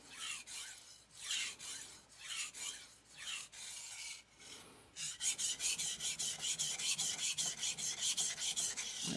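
Long knife-sharpening strokes on a resin bonded diamond whetstone make a crisp, rhythmic rasp, first slower irregular passes, then a quicker steady back-and-forth run of strokes, close and quiet with no talk.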